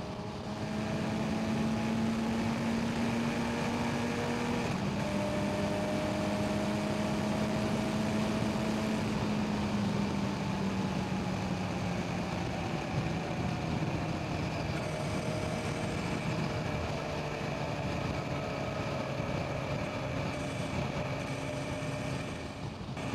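A Kawasaki Z900 inline-four motorcycle engine drones loudly and continuously while overtaking, its pitch climbing and sliding as revs shift, with steady wind rush and no speech.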